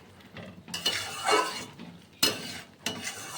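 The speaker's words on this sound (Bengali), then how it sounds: "ভালো করে আলুটার সঙ্গে মটরগুলো মিশিয়ে নিলাম।" Potatoes and peas for ghugni being stirred in a pot, a spoon scraping and clinking against the metal in a few separate bursts with quiet pauses between, close and fairly soft.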